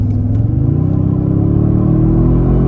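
A 2024 Toyota Sequoia TRD-Pro in sport mode accelerating at about half throttle, its exhaust giving a steady, close, loud low rumble that rises slightly in pitch, with no talk over it.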